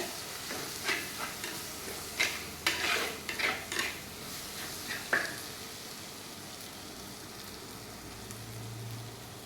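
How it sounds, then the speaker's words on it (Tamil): Curry leaves and kuzhambu ingredients sautéing in a pan, with a run of scraping stir strokes and clinks of a spoon against the metal over a soft steady sizzle, then a quieter stretch of frying alone. "நல்லா வதக்கிடுங்க."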